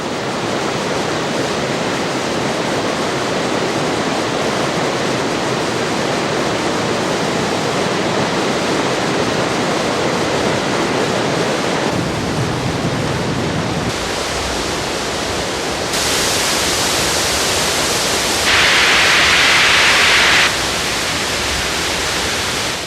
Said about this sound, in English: the rain has changed the gentle falls at Emerald Pools into an enormous flood